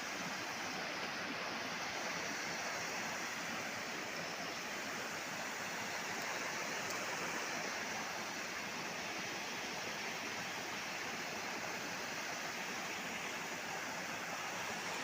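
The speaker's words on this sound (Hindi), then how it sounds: "लोतलोता वाटरफॉल।" The Lotlota waterfall near Korba rushes in a steady, unbroken roar of falling water that holds even throughout, fairly distant and with no voices.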